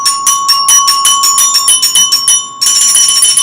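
Orchestral bells play a two-note half-step motif as a rapid run of bright, ringing metallic strikes, close and loud with no talk, closing on a fuller sustained chord.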